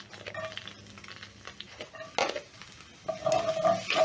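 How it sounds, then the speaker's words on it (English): Garlic and one onion frying in a pan, a quiet sizzle broken by soft irregular stirring scrapes and a few clearer knocks of a utensil on the pan near the end. "in the same pan, I'm going to add in some garlic and 1 onion"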